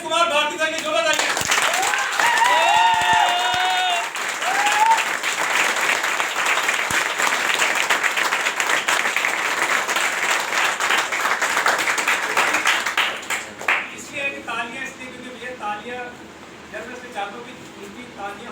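An audience claps through a welcome event for Gurudev ji, loud and sustained over a speaking voice with some harmonic tones, then thinning out and fading toward the end.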